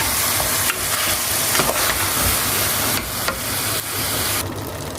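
Homemade masala being stirred into mutton curry frying in a pan, a steady loud sizzle and hiss with occasional scraping strokes of the spoon throughout.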